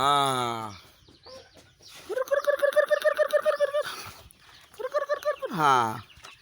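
Siam chickens at a village chicken farm cluck in rapid bursts nearby, with a rooster-like call at the start and a loud squawk near the end.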